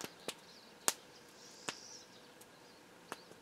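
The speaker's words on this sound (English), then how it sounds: "Birds are singing." Outdoors in the bush, a few sharp, sparse bird calls ring out at irregular intervals over a quiet background, clear and fairly close, with faint chirping between them.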